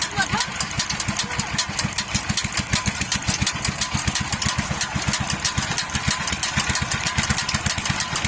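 An old Black Peter diesel engine runs after startup, its steady, rapid chugging thumps close and loud throughout, with faint voices in the background.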